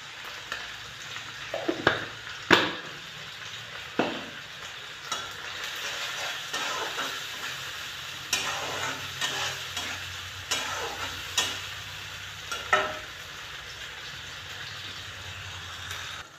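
Ginger and tomato with salt fry in a pan, a steady sizzle punctuated by spatula stirs and clinks against the metal at irregular intervals.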